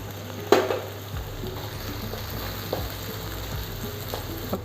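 Green chillies sizzle in a pan with ginger garlic paste for street style egg rice, a steady fry hiss near the mic with a sharp clatter early on and occasional utensil scrapes.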